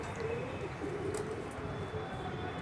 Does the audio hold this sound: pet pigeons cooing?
yes